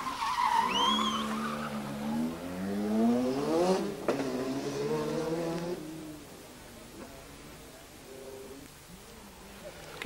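Lancia rally car understeering off the road at speed, its tires skidding in a long, wavering squeal with engine noise and a sharp impact, fading away as a commentator talks.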